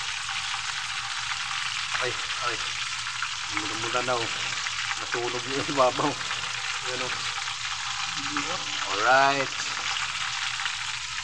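Marinated chicken fries in a pan with a steady, close, crackling sizzle throughout, while a person talks intermittently over it.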